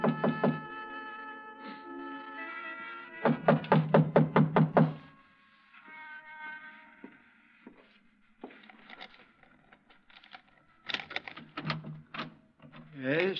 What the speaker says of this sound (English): I tried the front door, but it was locked. I didn't think anyone would be there that late, but I knocked anyway.